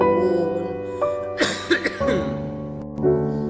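A single person coughs a few times in a short, harsh burst during a Quran recitation lesson, close and fairly loud, with a low hum underneath.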